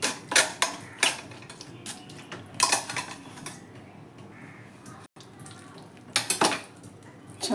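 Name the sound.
straining raw mango pulp through a sieve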